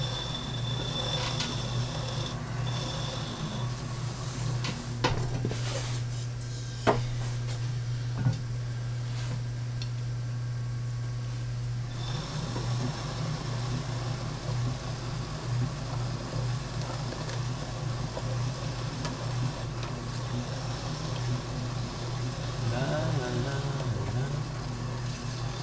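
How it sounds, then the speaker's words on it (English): Trimming clay bowls on a potter's wheel, a steady motor hum with soft scraping and occasional clicks of the tool, close and fairly quiet throughout. "when you're doing a lot of trimming like this, the tray here just gets filled up really quick"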